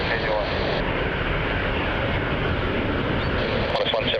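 A China Southern airliner landing at Melbourne Airport on runway 34, heard as a steady, loud broadband engine roar that fills the whole clip, with radio talk mixed underneath.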